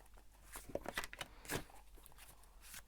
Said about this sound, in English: I'm going to shuffle a bit more about this person